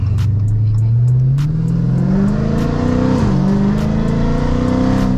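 A car engine revs up steadily as it accelerates, the exhaust note rising in pitch with a deep, loud rumble close by.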